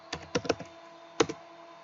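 A few quick keystrokes on a computer keyboard while entering a database username and password, three taps then two more after a short gap, close and quiet with no talk.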